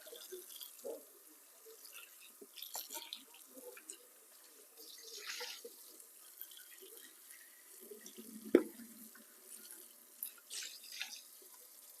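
Tap water running and splashing as giant red mustard greens are washed in a sink, soft and intermittent with drips and light handling clatter, no talk.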